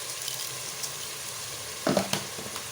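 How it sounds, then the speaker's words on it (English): Sliced onions fry in a pan with salt for chicken biryani, giving a steady close sizzle with a brief louder crackle of stirring near the end. "it will help the process of the onions frying faster"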